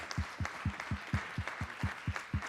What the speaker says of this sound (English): let's give this dynamic panel another round of applause.